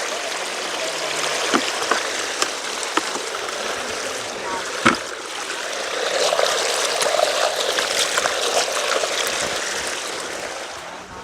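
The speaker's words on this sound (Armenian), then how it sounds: "փոքր ջուր վերցնեմ, որ գամ ձեռքերս լվանեմ" Flowing stream water scooped and splashed for washing hands outdoors, a continuous rushing trickle with scattered splashes and clicks, close by and steady, swelling slightly in the latter half.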